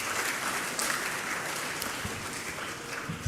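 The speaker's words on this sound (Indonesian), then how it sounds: "tepuk tangan dulu untuk pemusik dan Naposo" Applause for the musicians at a church service: a room full of people clapping steadily and fairly loudly throughout, with a few scattered louder claps.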